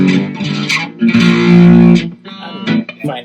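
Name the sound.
guitar through Pine-Box Customs Crooked Teeth pedal and boutique amp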